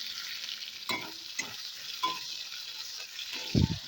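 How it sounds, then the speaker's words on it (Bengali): Chopped tomatoes frying with cumin in oil for a vegetarian okra dish, stirred gently: a quiet continuous sizzle with four or five distinct spatula scrapes against the pan, the last one loudest, and no voices. "এবার দিয়ে দেব টমেটো কুচি, দিয়ে ভালোভাবে নেড়ে চেড়ে নেব হালকা করে"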